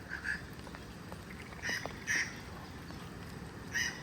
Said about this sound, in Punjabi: ਆ ਪੰਛੀ ਬੋਲੀ ਜਾਂਦਾ